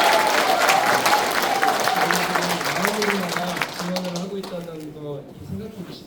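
Steady applause from an audience at a Democratic Party members' lecture in Cheongju, loud at first and slowly fading, with a voice speaking over it throughout.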